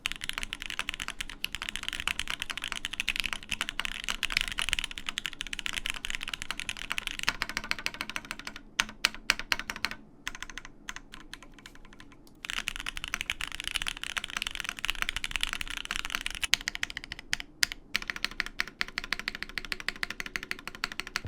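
Steady, fast typing on a Shadow80 mechanical keyboard with case foam, close up, with dense clacking keystrokes and a few brief pauses.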